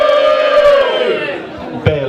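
A live studio audience in a radio studio whooping and cheering together in a loud sustained chorus of raised voices that tapers off.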